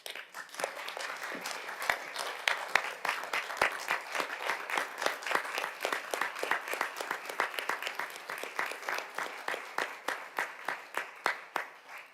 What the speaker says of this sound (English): And let's also just give them a round of applause.